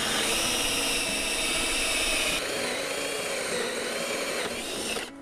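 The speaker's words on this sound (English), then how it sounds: "drill a bunch of holes in there" A power drill drilling holes in a pipe for a radon mitigation system whines continuously at high speed, loud and close, with a brief change in pitch midway and winding down at the end.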